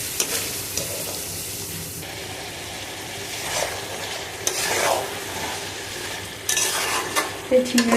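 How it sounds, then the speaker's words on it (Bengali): Katla fish head curry with ridge gourd and spices (fried onion, turmeric, coriander, Kashmiri chilli, cumin) sautéing in a pan, a steady close sizzle with scraping stir strokes and spatula clinks near the end. "আমার রান্নাটা কষাচ্ছি, খুব ভালোভাবে কষিয়ে নিতে হবে।"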